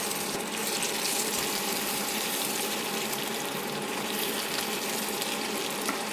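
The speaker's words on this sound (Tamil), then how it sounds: "மூளை ஃப்ரை வந்து நல்லா ஃப்ரை ஆயிடுச்சு" Mutton brain frying in masala in a pan, a steady dense sizzle with crackling and occasional stirring, close and even throughout with no voices.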